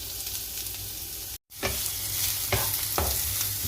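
Chopped garlic and onions frying in oil in a pan, a steady close sizzle broken by a brief gap, with several sharp stirring scrapes of a utensil through the pan.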